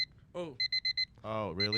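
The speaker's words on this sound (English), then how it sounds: "That's the alarm that we all had in high school that I dread the sound of." Old high-school style alarm clock going off: a short run of four sharp, evenly spaced electronic beeps, loud and close, between bits of conversation.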